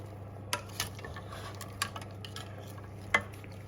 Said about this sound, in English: you can just give it a little stir to make sure you mix in all the ingredients